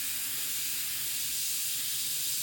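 Airbrush spraying reduced black paint lightly over a stencil while painting a hawk's eye: a steady, close, airy hiss that holds evenly throughout, with no talking.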